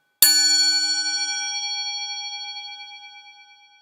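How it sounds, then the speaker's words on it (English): A Zen singing bowl gets a single strike and then rings with a bright, pure metallic tone that sustains and slowly fades with gentle wavering over several seconds, alone and close. "This is a Zen bowl."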